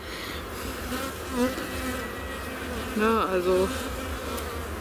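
A large, aggressive honeybee colony of about 25,000 to 30,000 bees buzzes in a steady, dense drone, with single bees whining close by, and someone speaks briefly.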